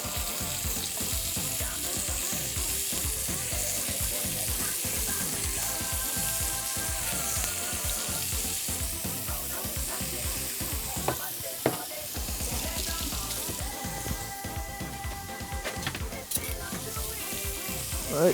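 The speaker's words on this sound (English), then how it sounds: "We're going to start to place our shrimp in the pan. Nice hot pan. Get a good sear on the shrimp." Shrimp searing in olive oil in a hot pan at a cooking demonstration, a loud continuous close sizzle throughout with occasional clinks and stirring.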